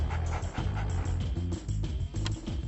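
An attack dog in a Soviet campaign mission of a strategy video game pants in quick, rhythmic breaths close by, with faint whimpering touches and no talking.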